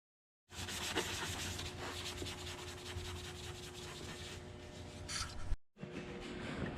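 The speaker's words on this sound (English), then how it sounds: "He's using a combination of an orbital sander and hand sanding it." Hand sanding the fender of a 2016 Acura RDX body panel during collision repair, a steady, close scratching rub that runs continuously for several seconds, breaks off briefly, then resumes.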